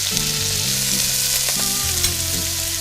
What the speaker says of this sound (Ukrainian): Отже, підсмажуємо цибулю